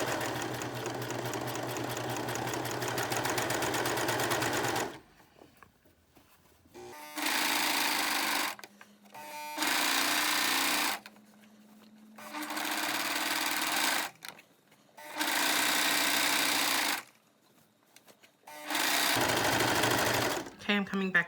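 A domestic sewing machine stitches a shirt sleeve into the armhole in a series of bursts. It runs steadily for about five seconds, then comes in four or five shorter runs separated by pauses, close up and fairly loud.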